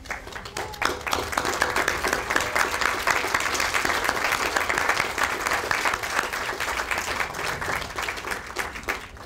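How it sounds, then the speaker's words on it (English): An audience at a graduate school commencement ceremony breaks into sustained, dense applause that holds steady and loud for the full stretch before easing slightly at the end. "applaud their parents and friends for taking this journey with them"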